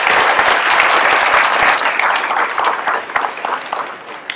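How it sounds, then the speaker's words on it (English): Audience applause for a school's assistant principal at a 7th grade orientation, a dense, steady wash of many hands clapping loudly throughout, easing slightly toward the end. "Let's give her a round of applause,"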